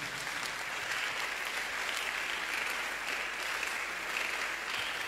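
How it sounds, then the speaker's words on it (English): A church congregation claps continuously in a dense, even patter at moderate level, with no voices standing out. "Clap for Jesus."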